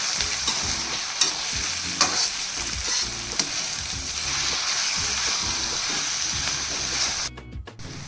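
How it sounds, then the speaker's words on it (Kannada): Avalakki uppitu, flattened rice, is cooked in a pan with steady sizzling and repeated stirring scrapes of a spoon, close and continuous, stopping briefly near the end. "ಇದನ್ನ ಚೆನ್ನಾಗಿ ಬೇಯಿಸ್ಕೊಬೇಕು"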